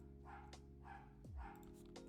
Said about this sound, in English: I do apologize for awful barking.